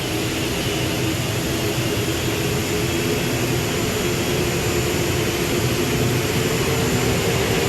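Both turbine engines of a modified pulling tractor running at a 1998 NFMS tractor pull in Louisville, Kentucky, a loud, steady, close jet roar with a high whine, unbroken throughout and with no talk.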